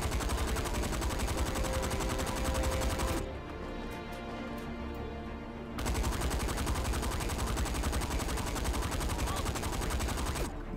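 Rapid, loud, continuous automatic firing from the rubber band gun in Saints Row 4, with one brief gap in the middle before the dense stream resumes.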